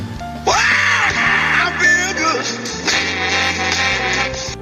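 A custom new-order alert on a ride-hailing driver app plays loudly and continuously, a dense tonal jingle with a steady backing beat, heard alone with no talking.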